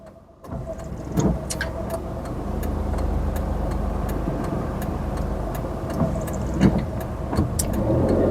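A car pulls away on an uphill slope during a driving lesson, its engine rumbling steadily and building slightly toward the end, with faint regular ticking over it.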